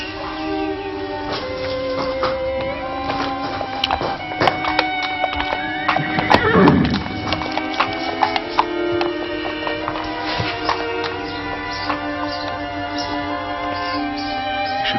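A horse, Shoscombe Prince, whinnies loudly partway through amid a steady run of clip-clopping hooves, with a busy, resonant background around it and no voices.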